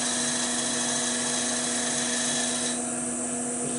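A small round-nose wood turning tool cutting fine shavings from a bowl on a spinning lathe, a steady loud high whine and hiss throughout with no talk.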